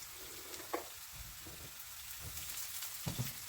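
Chopped onion and carrot fry in a pan for creamy pasta, giving a steady, even sizzle with small crackles and occasional soft stirring clicks.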